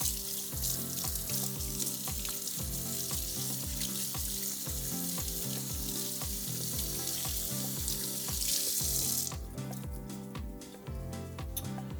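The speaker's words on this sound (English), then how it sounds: "So I'm going to wash my hands." Hands are washed under a running kitchen tap, a steady close splashing hiss with rhythmic rubbing bursts, the water shifting in tone near the end; no speech.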